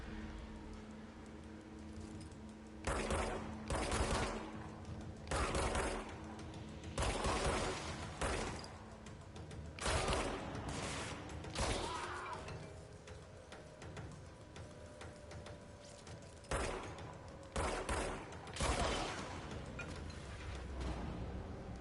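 Enemies firing weapons in the action game Control, repeated loud bursts of gunfire in short volleys over a steady rumbling game ambience, alone without talk.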